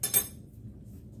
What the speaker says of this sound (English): Let me take the lid off my Instapot first.